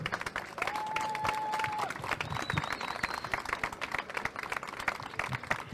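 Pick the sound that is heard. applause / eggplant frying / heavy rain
applause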